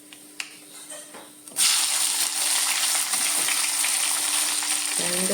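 Sliced onions dropped into hot oil with browned coconut for chicken curry, a sudden loud sizzle that stays steady, with a few stirring scrapes and clicks.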